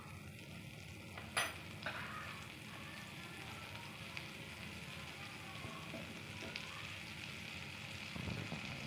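Half a spoon of butter melting in a kadai (Indian wok) while making vegetable soup gives a faint, steady sizzle with one brief clink near the start.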